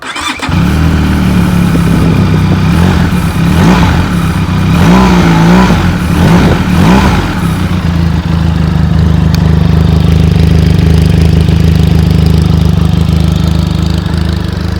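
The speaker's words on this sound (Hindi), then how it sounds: "अब इसके सुनते हैं एग्जॉस्ट की, इसका एग्जॉस्ट कैसे साउंड करता है।" A 2025 Benelli TRK 502X motorcycle in Forest Green idles with a steady, loud exhaust note. It revs several times in quick bursts early on, then settles back to an even idle, with no voices over it.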